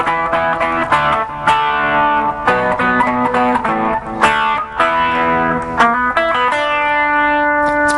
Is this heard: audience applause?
no